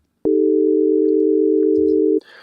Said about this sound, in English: Right, so just our sine wave.